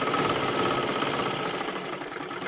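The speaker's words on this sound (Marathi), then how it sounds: "परत एकदा त्याच्यावरतीच आपल्याला डबल शिलाई द्यायची आहे" A sewing machine runs a double line of stitching over a tuck on a blouse. It gives a continuous close mechanical whirr with a rapid rattling rhythm that stays even throughout.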